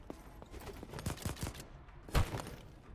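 Gunfire aimed at the player in the video game Voidtrain: a quick volley of sharp shots that ends in one loud close crack, with no one talking.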